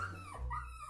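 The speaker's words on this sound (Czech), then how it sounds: "Já úplně nesnáším psí kňučení" A dog whimpering after a vaccination in a dog-life game, a brief close whine rising and falling twice within a second over a low hum.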